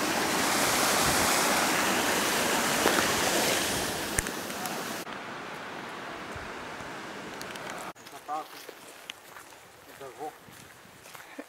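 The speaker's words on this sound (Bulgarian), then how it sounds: "Ето тук има една река." A mountain river flows on a hike up Kutelka peak, a loud broad rush of water that fades as the walkers move on. Footsteps and soft voices follow near the end.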